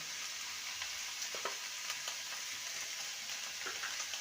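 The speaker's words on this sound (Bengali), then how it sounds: "ভালো করে নেড়ে নেবো" Snake gourd and potato frying in a pan with salt and turmeric, being stirred: a quiet, steady sizzle with faint scraping accents from the stirring.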